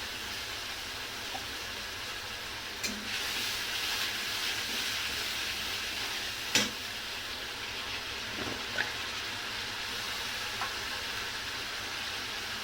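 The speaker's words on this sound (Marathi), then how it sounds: "आता ह्याला पण तेलामध्ये परतून घेते" Ground coriander, ginger, garlic and tomato paste fry steadily in hot oil, a continuous soft sizzle with a few faint clinks of a spoon against the pan, close and alone without talk.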